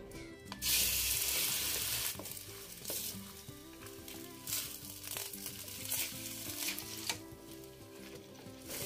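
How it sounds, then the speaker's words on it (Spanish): Chicken pieces frying in oil in a pot for a chicken spaghetti stew, a loud crackling sizzle that surges at first and then settles into steady popping with stirring scrapes. "Y vamos a freír el pollo."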